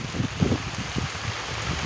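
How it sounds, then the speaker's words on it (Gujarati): Heavy rain falls on a village, a steady broadband wash with a few soft thumps near the start and no one speaking. "અત્યારે તો વધારે વરસાદ આવવા માંડ્યો"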